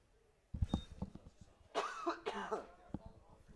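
A commentator in a live baseball broadcast booth at Frawley Stadium gives a few sharp coughs close to the microphone, followed by a longer rough bout of coughing and throat clearing, then quiet.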